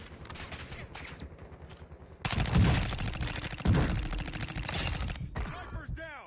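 Bursts of gunfire in a shooter video game, with sharp impact-heavy volleys growing louder midway and continuing in rapid strings, with some talk mixed in.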